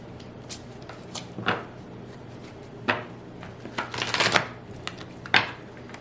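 Tarot cards are shuffled close by in a series of short, uneven rustles and flicks, a denser flurry in the middle, against a quiet background.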